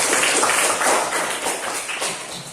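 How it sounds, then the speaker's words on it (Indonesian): A classroom of students claps together in a dense burst of hand-clapping that rises and falls in waves at close range, with no talk over it. "Tepuk tangan untuk kita semua."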